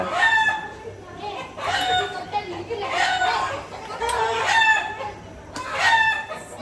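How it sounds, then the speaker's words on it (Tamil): Chickens cluck and squawk repeatedly in loud bursts nearby, with a rooster-like call among them. "கோழி வேற கத்திக்கிட்டே இருக்கு கோழி சவுண்டு கேட்குதா"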